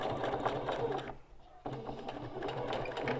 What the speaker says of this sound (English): Top stitching all along here.